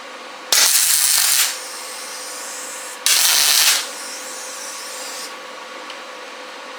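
A passenger handle is tack welded onto an Intimidator 750 Classic side-by-side, producing two separate bursts of loud, crackling hiss, each lasting about a second, against a quiet workshop background.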